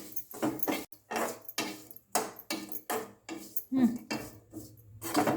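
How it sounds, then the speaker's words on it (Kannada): Dry grated coconut being roasted and stirred in a pan while making chudwa, with repeated scraping and clinking of a spoon against the metal in a steady, close rhythm. "ಸೊ ಕೊಬ್ಬರಿಯನ್ನು ಕೂಡ ಹುರ್ಕೋಬೇಕು, ಸ್ವಲ್ಪ ಚೆನ್ನಾಗಿ ಬ್ರೌನ್ ಕಲರ್ ಆಗಬೇಕು"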